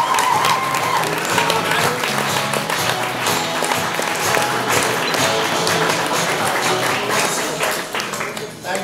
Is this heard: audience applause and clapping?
yes